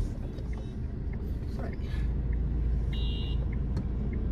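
A car engine runs steadily during a driving lesson, a continuous low rumble with some road noise that stays at a constant level throughout.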